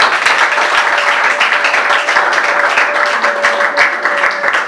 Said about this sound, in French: Alors si on peut les applaudir.